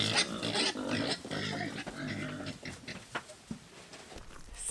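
Pigs grunt and oink in a steady chatter on a homestead, fenced on gravel with electric fencing, with scuffling and patter of movement close by and no talk.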